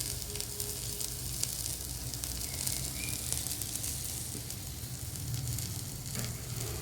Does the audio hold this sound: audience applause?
no